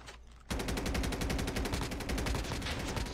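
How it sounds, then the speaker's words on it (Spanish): Rapid automatic gunfire in the mobile shooter game Call of Duty Mobile, a loud burst of evenly spaced shots that starts abruptly and keeps rattling steadily to the end. "Escucho los disparos"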